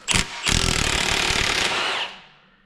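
A pneumatic impact wrench with a 1.25-inch socket hammers off the pinion yoke nut on a GM 10-bolt front axle, starting with a short burst, then one loud, continuous rattling run of about one and a half seconds that cuts off and fades.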